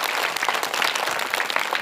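Children clapping together at a school fundraising event, a dense, steady patter of many hands heard close and without talk.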